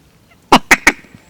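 Swans near a lake during a duck hunt give three loud, close honking calls in quick succession, then fall quiet.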